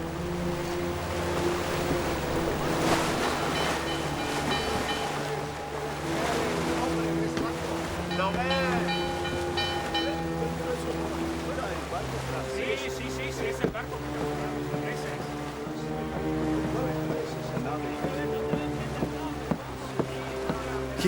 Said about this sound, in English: The breeze is freshening.